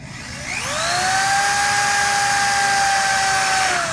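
Power drill boring through metal in a sculpture workshop, the motor whining up to a steady high-pitched pitch and holding it for several seconds before beginning to wind down; loud and close, with no talk.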